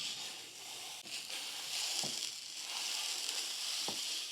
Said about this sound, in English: So I'm going to put this into my hot skillet now. And we're just going to brown a pound of sausage.